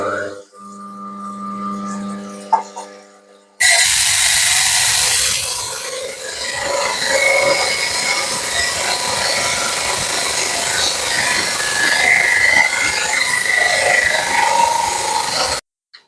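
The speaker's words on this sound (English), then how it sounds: "we're using a trim saw which is impregnated with diamonds on either side of it, which makes it possible for us to cut these stones" A diamond-impregnated trim saw cuts through North Ridge Plume Agate, giving a steady close grinding, rasping whir that runs for about twelve seconds after a brief quiet stretch with faint tones.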